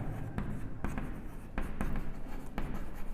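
Pen or chalk scratches out a math solution on paper or a board during a Class 10 lesson, with short, uneven strokes and taps repeating close up and no talk.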